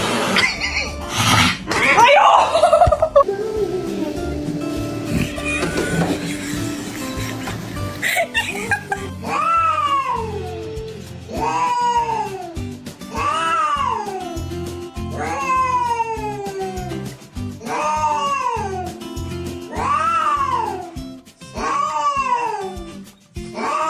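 A cat in a bathtub lets out a long series of drawn-out, wavering meows and yowls, loud and close, repeated every couple of seconds, with human laughter and chuckling mixed in near the start.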